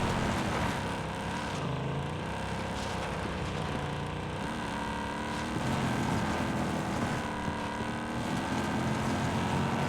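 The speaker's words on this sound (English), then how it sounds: "I like the sound of this Jeep." A Jeep's engine drones steadily while driving in Call of Duty Warzone Pacific, a loud continuous rumble with shifting pitch that holds for about ten seconds without speech.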